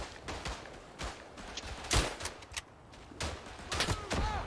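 Scattered pistol shots in the World War I trench shooter Verdun, several sharp cracks at irregular intervals, mostly distant and moderate in loudness over a low background rumble.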